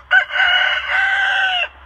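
A large rooster crows once, loud and close, a long drawn-out call in two sustained segments after a short opening note, alone without talk outdoors by a chicken coop.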